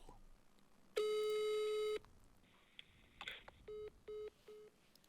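A telephone line gives a one-second steady tone followed by a short burst of tones, then three evenly spaced short beeps of a busy signal after the call is hung up, clear and close.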